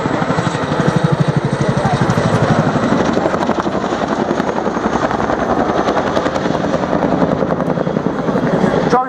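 A helicopter in an airshow display at Dunsfold, flying steep nose-up and nose-down manoeuvres, its loud rhythmic rotor chop beating continuously and close, with a commentator speaking over the public address.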